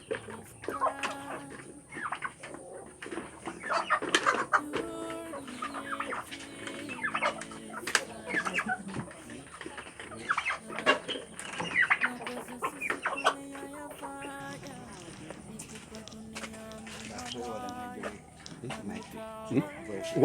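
Old laying hens cluck and chatter on a farm in The Gambia, a dense run of overlapping bird calls at close range, with people talking throughout.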